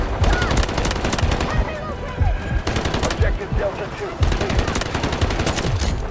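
A cut-down PKM light machine gun with its stock removed fires in the Delta Force shooter game. Long rapid automatic bursts rattle close and loud in several strings separated by brief pauses.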